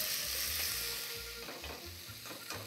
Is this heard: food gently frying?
yes